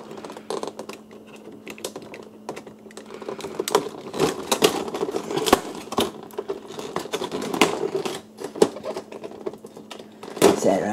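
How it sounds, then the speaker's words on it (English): Packing tape is peeled off an action figure box in a quick series of crackly, ripping bursts, close and irregular, with short pauses between pulls. "we got some tape we got to get rid of"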